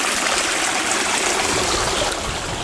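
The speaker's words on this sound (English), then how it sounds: "The stream, as it wends its way down along the land," A stream filled to capacity rushes past nearby in a steady, bright hiss of flowing water, alone and continuous.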